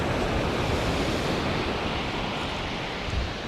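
Sea swells break and roll continuously near Shakespeare Cliff in sea mist, a loud, dense wash of surf with wind buffeting the microphone and no voices.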